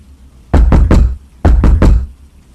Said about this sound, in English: The desperate knock on the door sent me running back to the dining room